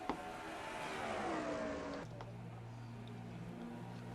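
Toyota race trucks run on an oval track in a video game, with an engine tone that rises and falls as they pass, and a steady lower drone after a sharp cut in the sound.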